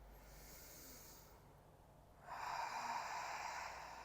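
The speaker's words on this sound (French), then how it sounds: "Je t'invite à prendre 3 respirations très profondes par le nez ou par la bouche, comme cela vient." Slow, deep breaths drawn through the nose or mouth, a soft airy inhale followed by a longer, louder hissing exhale, close and alone in a quiet room.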